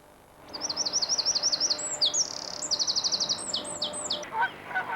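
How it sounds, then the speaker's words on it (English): A tiny wren with an upright tail sings a loud, vehement song of rapid trills and bright repeated notes, one close bird carrying on for several seconds with no other voices. "The song is surprisingly loud and vehement for such a small bird."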